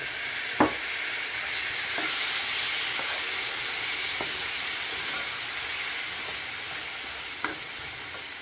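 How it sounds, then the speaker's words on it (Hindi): Turmeric and crushed red chillies fry in hot oil with a steady, hissing sizzle throughout, punctuated by occasional sharp spoon clicks against the pan. "हल्की सी खुशबू होने देंगे उसमें हम हल्दी की, और मिर्चें हल्की सी फ्राई हो जाएं, रेड कुटी हुई मिर्चें"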